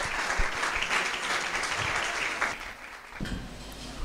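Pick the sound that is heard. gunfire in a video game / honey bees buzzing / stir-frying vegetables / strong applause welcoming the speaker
strong applause welcoming the speaker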